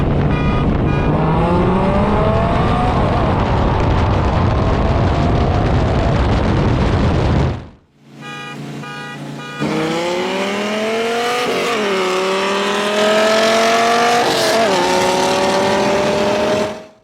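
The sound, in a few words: Dodge Viper GTS V10 racing a Shelby from 30 mph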